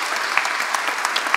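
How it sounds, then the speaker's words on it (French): Applause from an audience at a museum inauguration ceremony honouring a family, steady dense clapping throughout with scattered sharper claps, no talk over it. "Je vous demande de les applaudir."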